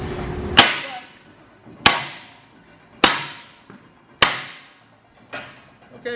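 Sharp metallic hammer blows striking a welded lock to break the weld loose, five loud separate impacts about a second apart, each ringing briefly before fading.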